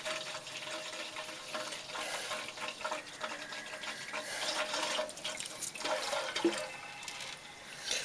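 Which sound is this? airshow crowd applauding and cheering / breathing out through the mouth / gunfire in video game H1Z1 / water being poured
water being poured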